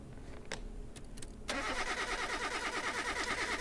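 An Aston Martin DBX engine in Car Mechanic Simulator 2021 cranks briefly with a few clicks, then catches and settles into a steady, loud, even idle.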